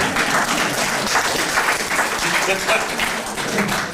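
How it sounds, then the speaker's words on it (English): Loud, continuous clapping from an audience at a public meeting about a park development, a dense steady wash of applause without pause. "you can clap now"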